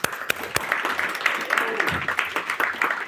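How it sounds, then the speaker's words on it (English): An audience at a business talk gives a short round of clapping with scattered sharp claps, while a voice keeps talking over it. "Let's give them a round of applause."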